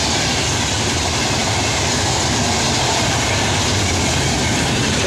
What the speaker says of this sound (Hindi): ये आपकी है अमृतसर एक्सप्रेस निजामुद्दीन दिल्ली जा रही है